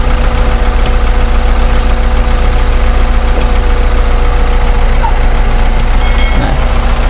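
A car engine idles with its PCV valve hose plugged by a bolt, producing a loud, steady, close drone with a slightly labored, even rumble throughout.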